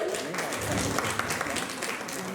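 An audience at a Balinese storytelling contest gives quiet, steady applause, fairly distant, with murmuring voices underneath.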